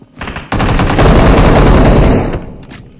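Gunfire in the battle game PUBG Mobile, tagged as a shotgun, erupts loud and close as a dense, continuous volley lasting about two seconds before cutting off, with a few faint clicks around it.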